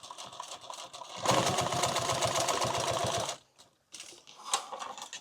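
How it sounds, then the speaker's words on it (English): A sewing machine stitches backpack webbing for a medical backpack in one loud, fast, steady burst lasting about two seconds, then stops, followed by a couple of brief short whirs and handling noises. "I'm going to sew these so that I can get one wrap through them."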